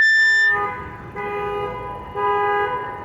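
A car horn blares in a sustained alarm-like tone, starting and stopping a few times, fairly loud against faint background rumble.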